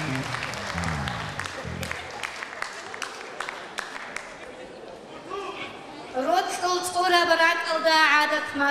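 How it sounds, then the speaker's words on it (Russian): Audience applause at a poetry evening, scattered clapping that thins out over several seconds, with chatter in the room and then a voice that rises over it. "Ваши аплодисменты, Айшат Ибрагимова!"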